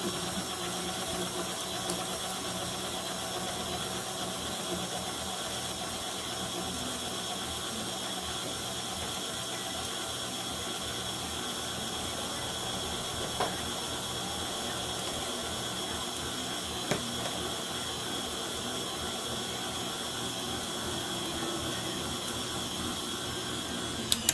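A stand mixer works bread dough as between five and six cups of flour go in for homemade sandwich bread, giving a steady, even mechanical whir with a faint rhythmic ticking. It runs alone, with no talk, for the whole stretch.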